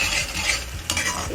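Masala roasting in oil in a pan over a low flame, with a spoon stirring through it: a steady sizzle and soft scraping strokes, close and continuous over a brief moment.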